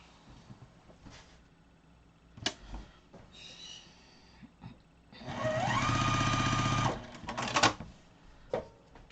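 A sewing machine stitches fabric pieces together for sewing machine mats in one steady, close whirring run of a couple of seconds, with quieter handling noises and clicks before and after.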